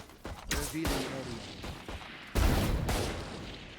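Outlaw sniper rifle shots in a competitive Valorant match, two sharp loud cracks about two seconds apart, each with a short ringing tail over game background noise.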